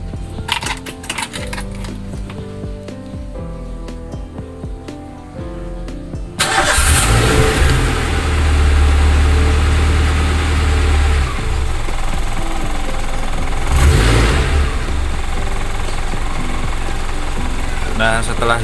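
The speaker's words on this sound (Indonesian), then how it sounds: "kita start mobilnya" A carburetted car engine being tuned cranks and catches partway through after a quieter stretch, then settles into a loud, steady idle with a few swells in revs.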